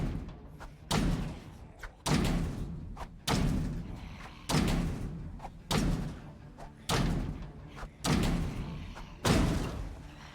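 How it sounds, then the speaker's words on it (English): A garage door in the Project Zomboid video game is bashed with about eight heavy, evenly spaced thuds, each a loud slam with a short rattling tail, coming roughly every one and a quarter seconds. "I just wanna bash in this garage door here, this container."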